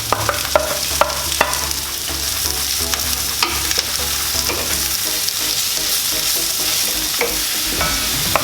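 Mushrooms frying in a pan with onion and garlic, stirred with a utensil: steady close sizzle under repeated scraping and clacking strokes against the pan, heard alone with no talk.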